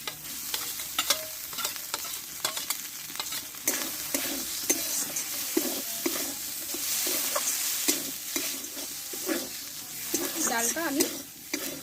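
Boiled moong dal is stirred and fried in a pan, with repeated spatula scrapes and knocks over a low, continuous sizzle, close and uneven in rhythm.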